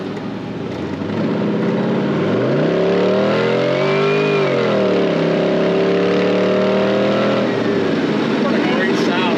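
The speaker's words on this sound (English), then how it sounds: "Let that LS1 breathe a little bit." LS1 V8 in a 1932 Ford Hi-Boy roadster revving up through a long pull, the engine note climbing, dipping briefly and climbing again before easing off, loud and close with a voice speaking over it.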